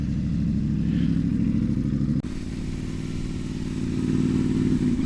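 Motorcycle fitted with Motoz off-road tyres riding steadily, a continuous close engine drone with a brief dip partway through and no talk.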